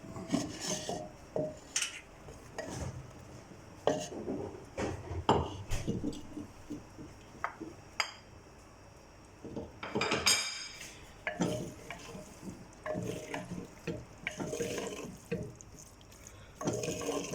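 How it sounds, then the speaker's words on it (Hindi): Chopped onion goes into a pan while bhindi with green chilli is being cooked, giving a quiet run of metallic clinks, scrapes and light clatter from the utensils, irregular and close. "इसमें हम डालते हैं जी प्याज, कटी हुई प्याज डाल रहे हैं जी"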